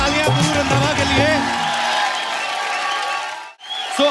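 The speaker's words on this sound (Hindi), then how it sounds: "एक बार जोरदार तालियां" Studio audience applause and cheering on a Hindi TV comedy show set, a loud burst of clapping and whoops that fades over a few seconds with music and a voice underneath, then cuts off briefly.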